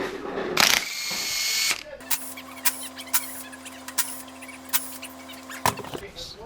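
Bolts come off an Audi 01E transmission cover during a rear-wheel-drive conversion, with a burst of ratcheting followed by a series of sharp metallic clicks and taps over a steady low hum.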